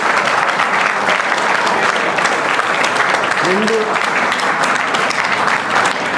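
Steady applause from a group of students in a classroom, dense and continuous throughout, with a brief voice sound partway through.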